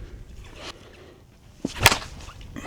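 A Monsta Black Sheep Hellspawn slowpitch softball bat with alloy handle strikes a ball higher up on the barrel, giving one sharp, loud crack that stands alone against quiet background noise.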